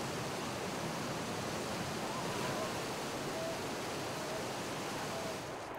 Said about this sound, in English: wild, freezing rivers